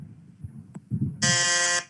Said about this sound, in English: So it's so Rishi buzzed in and Shabnam is yet to buzz in.